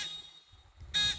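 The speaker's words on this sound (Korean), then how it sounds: "이 삐 소리가 나는 이거는" A multimeter's continuity beep while testing a shorted solid-state relay (SSR): a short, sharp electronic tone near the end, after a brief one at the very start, over faint background hum.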